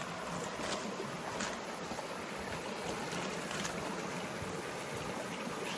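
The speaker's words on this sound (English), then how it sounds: "this is the main creek now we just got down to" Creek water flowing steadily deep in a rainforest, an even, continuous rushing wash heard alone at a low, constant level.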